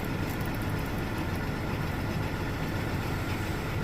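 A tractor engine idles at a steady low rumble, a continuous close drone with even pitch and no revving, heard alone without talk.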